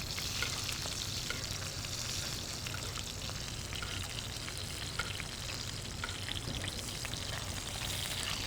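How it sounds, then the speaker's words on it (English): Beef searing in hot beef fat while being basted, a steady, close crackling sizzle with spattering and liquid trickles running continuously, no talk. "So we're just basting it with that beef fat, yeah? Get a nice sizzle."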